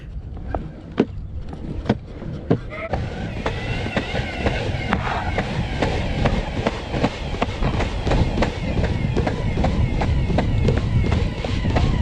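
Electric skateboard riding and turning around, with a continuous rumbling roll of wheels over the ground and a repeating clickety-clack of bumps, loud and close throughout.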